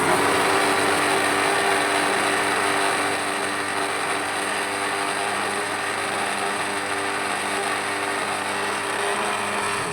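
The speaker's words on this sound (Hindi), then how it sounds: "चलिए अब हम इसको करेंगे ग्राइंडर। हमने इसको 2-3 मिनट के लिए चलाना सिर्फ।" A kitchen grinder runs continuously, blending a strawberry mixture for a sweet bread dish, with a loud, steady whirring roar that holds without pause throughout.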